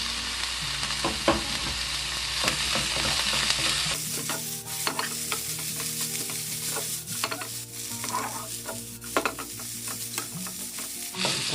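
Bellflower root and julienned carrot are stir-fried in a pan, with a steady close sizzle under repeated scraping and stirring strokes throughout, and no talking.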